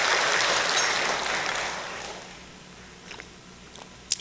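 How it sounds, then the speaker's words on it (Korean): A church congregation applauds during a Sunday worship service, a sustained wash of clapping that fades away over a few seconds, followed by faint scattered sounds and one sharp click near the end. "두 분이 여행 잘 하시라고 우리 박수로 격려하십시다"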